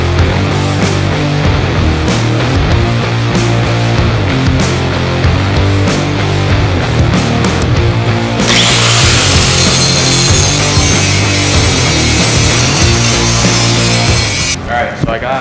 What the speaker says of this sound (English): I'm gonna go ahead and get all these grinded down and looking fresh